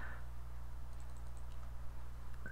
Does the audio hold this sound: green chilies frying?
no